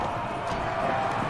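Horses galloping during a siege battle in the video game Conqueror's Blade; a steady, dense rumble of hooves under the din of combat, continuous and fairly loud throughout.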